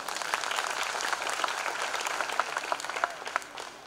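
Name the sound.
congregation applauding in church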